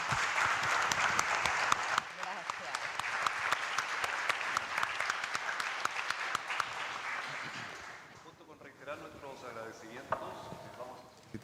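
An audience applauds a panel, dense clapping that thins after a few seconds and fades out as a voice starts talking near the end.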